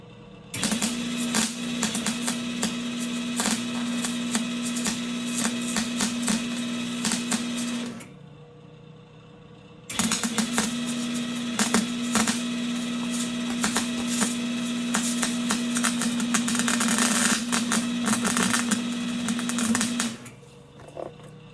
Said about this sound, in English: I never claimed to be the best welder, but I'm gonna add some more back here.